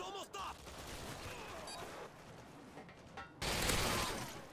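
Bursts of M240 machine gun fire in Modern Warfare 2 (2009), a dense, rapid clatter running through most of the stretch, with a sharper, louder burst near the end over game ambience.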